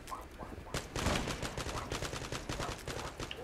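Dense bursts of gunfire fill a match of the Zula online shooter in heavy competitive mode, with rapid overlapping automatic shots and impacts rattling on without pause for the whole stretch.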